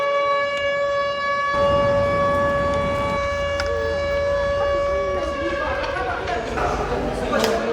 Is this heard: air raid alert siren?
yes